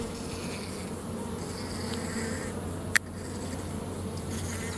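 Honey bees in a hive where mated queens are banked, a steady dense buzzing hum that holds evenly throughout, with a brief sharp click near the middle.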